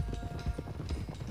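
Horse hooves clip-clop on the ground in Red Dead Redemption II, a quick steady run of soft thuds in a busy rhythm, moderately faint amid low rumbling background noise.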